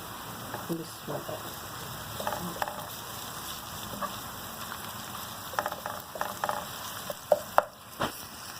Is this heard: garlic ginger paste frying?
yes